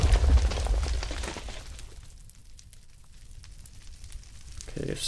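A grenade exploding in Minecraft, a loud low blast at the start that rumbles and fades into a crackling, burning hiss.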